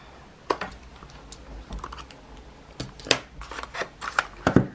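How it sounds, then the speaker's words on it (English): A package with tape on its bottom is cut open, a run of small sharp snips and crinkles, quiet and close with no talk over it. "We've got tape on the bottom, so let's just cut through that."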